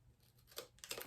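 Scissors snip off excess vinyl wrap from a tumbler: two quick, faint cuts close to the microphone in a quiet room.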